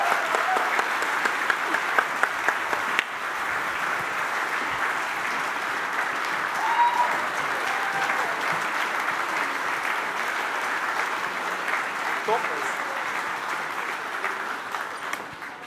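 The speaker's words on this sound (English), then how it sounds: "So can I get a big applause for the mechanical department?" Sustained applause from an audience at an exoskeleton reveal event, dense even clapping for about fifteen seconds, with a few louder claps early on before it settles into a steady wash.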